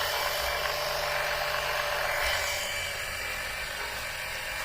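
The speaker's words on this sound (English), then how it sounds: "There's so much suction, it's sucking this tube in flat" An oil extractor pump draws engine oil out of a Mercedes through a tube. It gives a steady, loud whirring hiss of suction with no break.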